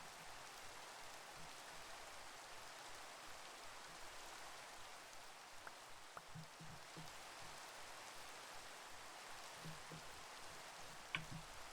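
Rain falls in a Minecraft game world as a faint, even hiss, with a few soft drop ticks scattered through it.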